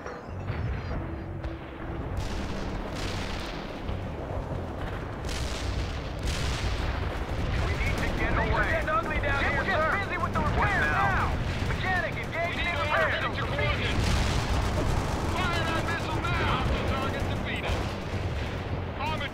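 Artillery and mortar rounds from World in Conflict: Soviet Assault pound a target in a steady barrage of booms and crackling gunfire, with voices and radio chatter running over the bombardment.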